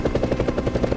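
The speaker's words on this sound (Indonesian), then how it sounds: "Setelah helikopter mendarat," Helicopter from the action film Mechanic: Resurrection, a steady rhythmic rotor chop pulsing several times a second, loud and close throughout with no talk.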